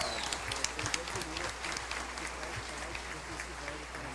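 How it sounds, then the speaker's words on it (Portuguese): An audience at a public hearing on youth and violence claps in sustained, even applause that is fairly quiet and distant, filling the whole stretch. "Uma salva de palmas"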